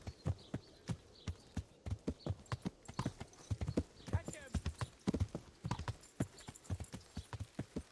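Horse hooves clip-clop steadily in Kingdom Come: Deliverance, a quick, even rhythm of close, sharp hoofbeats running throughout while someone talks over them.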